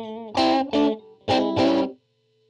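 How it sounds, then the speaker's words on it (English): Sustained electric guitar chords through a Line 6 Helix with a natural reverb setting ring out in two pairs of strums, each decaying with a roomy, reverberant tail before a brief silence. "This is sort of like a natural reverb sound."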